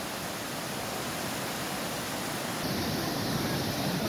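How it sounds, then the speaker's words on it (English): Torc Waterfall rushing as a steady, dense broadband roar at close range, continuous and unbroken throughout, growing slightly louder near the end, with no talk over it. "So here's the waterfall itself."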